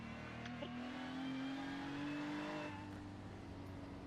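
Race car engine in a Nurburgring 24-hour racing video game held at high revs, a steady droning whine that rises slightly in pitch and then holds, continuous and moderately loud with no voices.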